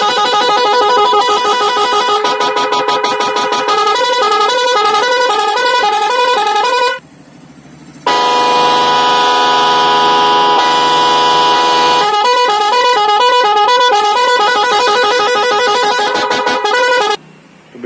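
Musical multi-tone car horn being tested, loud close blaring melodic patterns and warbling tones cycling through several sounds, with one brief pause midway.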